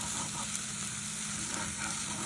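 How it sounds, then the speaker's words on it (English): Vegetable omelet egg mixture sizzles steadily in a lightly oiled frying pan, a close, continuous crackling hiss with no voices. "So here's the mixture in the frying pan being cooked."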